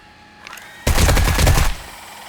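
A short, loud burst of rapid gunfire in 7 Days to Die lasts just under a second, preceded by faint ambient game noise and followed by a quick fade.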